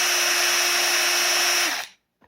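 A Metabo hammer drill runs in hammer mode in the third speed setting, a loud, continuous, buzzing whine held steady for nearly two seconds before cutting off sharply.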